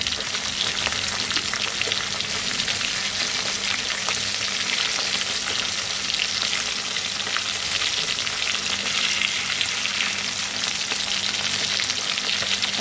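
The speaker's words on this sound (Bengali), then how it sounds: "এখানে মাছগুলো ভাজতে দিয়েছি" Khoira fish frying in hot oil in a home kitchen, a dense, steady sizzle and crackle that holds evenly throughout, close and alone with no voices.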